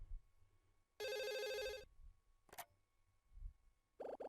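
Telephone ringing in the Another Code: R video game, a bright electronic trill lasting about a second, followed later by a short sharp click and a brief second burst of ringing near the end.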